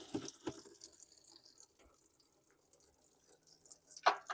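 Old gasoline from a 2004 All-Power 6000 watt generator gas tank drains with faint trickling and dripping at close range, a louder splash near the end.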